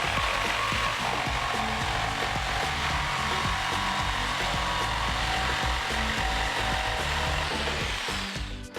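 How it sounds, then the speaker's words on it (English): A jigsaw cuts through wood at full speed, giving a steady, dense mechanical buzz with a rattling, chattering texture that runs loud and unbroken for almost nine seconds before easing slightly at the end. "Once it hits full speed, then you can press and push, gently guiding the saw as it cuts."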